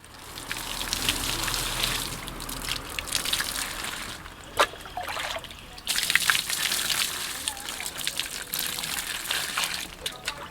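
A sword blade is rinsed with plain water after being scrubbed clean of sap and wood residue, with steady running and splashing water broken by short pauses and a few clinks, while someone talks over it.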